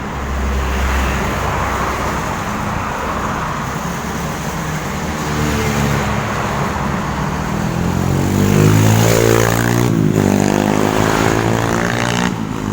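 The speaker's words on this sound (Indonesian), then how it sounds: "Di sini ramai sekali kendaraan berlalu lalang." Busy traffic streams past on Jalan Magelang, a continuous roar of cars and engines close by with a heavier vehicle rumbling louder near the end.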